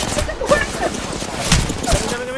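Apex Legends gunfire, with rapid shots crackling in uneven bursts during a firefight, partly under game voice lines and chatter.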